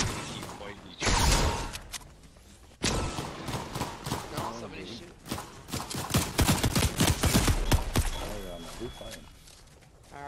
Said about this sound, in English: They're just fighting each other. They're shooting each other.